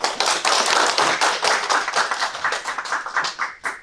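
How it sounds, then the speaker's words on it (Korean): An audience at a sustainable development seminar in Daejeon applauds as a speaker comes up, loud close clapping from many hands that thins into scattered claps toward the end. "나오실 때 큰 박수 좀 부탁드리겠습니다"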